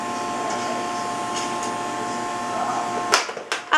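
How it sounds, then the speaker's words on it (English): A small child runs a vacuum cleaner with a steady, whining motor hum that holds level and then cuts off, followed by a few close knocks and clatters. "Good vacuuming."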